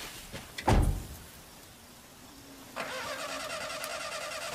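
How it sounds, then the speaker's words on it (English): A truck engine in a film scene cranks with a steady whirring starter but fails to catch, following a sharp thump, with no voices. "Now the truck won't start."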